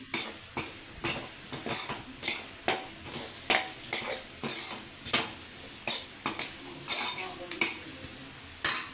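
Potato pieces and spices for aloo rice are stirred in a pan with a steady run of close, rhythmic scraping strokes, roughly two per second, over a light sizzle.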